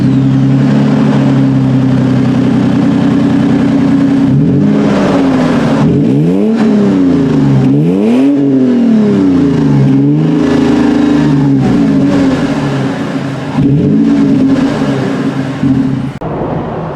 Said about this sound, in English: I don't know if you can hear the exhaust sound when I have the camera and microphone inside the cabin, so let's try listening from the outside.